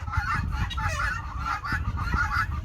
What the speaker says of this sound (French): Là, je vois, il y a des pintades aussi avec.